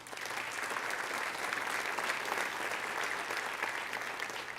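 Sustained applause fills a church as the congregation claps for the Lord, an even, dense roar of many hands heard at moderate distance without a break.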